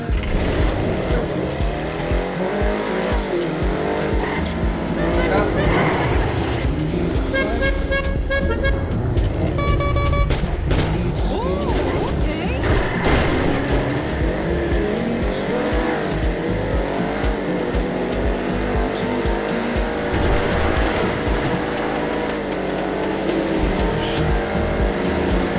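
A Nightshark armored car in GTA drives hard with engine roar, a brief burst of horn-like tooting in the middle, and tire squeals, loud and continuous throughout with no talk.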